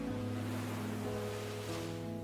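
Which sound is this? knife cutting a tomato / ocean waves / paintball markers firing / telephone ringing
ocean waves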